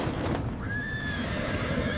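Horses neighing inside a factory: a loud, close whinny with a rising and falling pitch over a steady mechanical hum, along with faint hoof clops.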